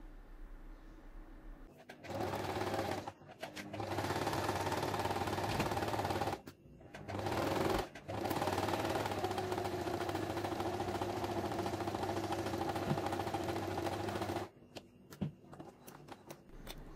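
A sewing machine stitches the fabric of a niqab, its motor whirring steadily in two long runs separated by short pauses, fairly close and with no talking.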